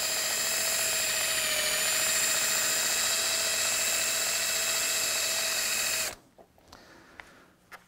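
A rotary brush polishes a ski base during race wax tuning, a loud steady whirring hum with a sustained tone running for about six seconds before cutting off, leaving faint handling knocks.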